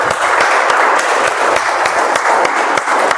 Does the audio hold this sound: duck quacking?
no